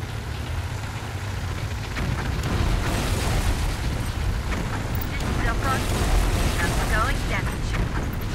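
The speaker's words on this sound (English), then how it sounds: "Massive detonation at the cargo ship. They've blown it up." Massive cargo ship explosion in the war game Tom Clancy's EndWar, a loud sustained rumbling blast with roaring debris and wind-like noise swelling after the first two seconds.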